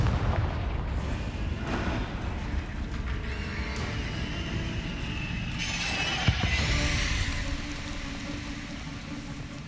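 Confringo blasting-spell explosions in Hogwarts Legacy, a series of booming impacts with crackling debris over a steady rumbling game background, one sharper burst standing out late.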